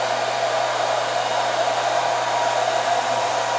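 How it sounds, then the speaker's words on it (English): A hair dryer blows steadily while drying a daguerreotype, with a constant, broad whooshing hiss and a low motor hum, unbroken throughout and fairly close. "then we'll dry it with a hairdryer"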